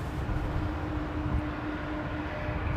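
A jet airliner on approach to a runway at London Heathrow, a steady broad roar with a low rumble, fairly close and continuous.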